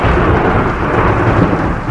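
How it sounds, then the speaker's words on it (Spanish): Loud, continuous rolling thunder amid a dense wash of heavy rain, a steady storm rumble filling the whole stretch with no pauses or voices. "En ese momento, se escuchaba un trueno"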